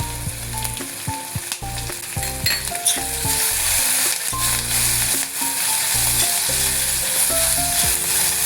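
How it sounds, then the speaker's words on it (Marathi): Cumin, chopped potatoes and finely chopped green chillies sizzle steadily in hot ghee in a pan, a loud, continuous frying hiss with a melody running beneath it throughout. "1 चमचा जिरे घालू आणि हे जे चिरलेले बटाटे आहेत ते पण यामध्ये घालून घेऊ आणि मिरच्या बारीक चिरलेल्या."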